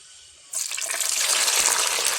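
Small, short chillies drop into hot coconut oil for a pickle. After half a second of quiet, a sudden loud hiss bursts out and keeps building, bubbling steadily close by.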